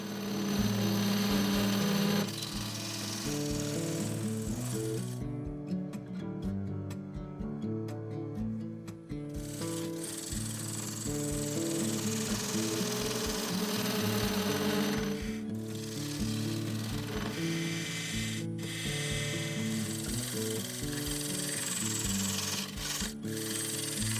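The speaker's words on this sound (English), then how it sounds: "I kept going, cutting deeper into the resin." Walnut and epoxy resin turned on a lathe, a continuous close tool-cutting rasp over the steady hum of the spinning machine, with brief breaks in the cut.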